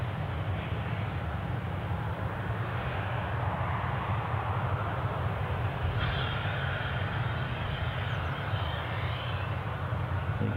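At Newcastle Airport, Ryanair and Jet2 Boeing 737 jets pass in opposite directions, giving a steady, distant broadband engine roar that holds evenly throughout without any voices.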